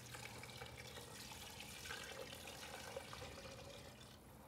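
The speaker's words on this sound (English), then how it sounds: "Now we can add our broth." Broth poured into a pot of meaty stew with canned beans and bay leaves, a steady, continuous liquid pour running close and fairly loud for several seconds without talk.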